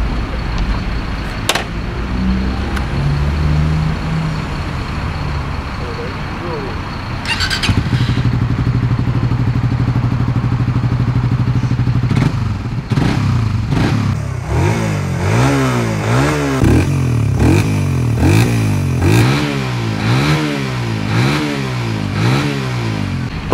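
A nearby Suzuki Raider 150 Fi motorcycle idles roughly, then its engine is revved over and over in a quick, rhythmic series of loud throttle blips.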